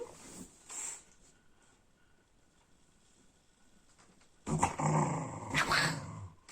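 A dog growls in short, rough bursts, one brief rumble near the start and then a louder, sustained snarl toward the end, close by and with no talk over it.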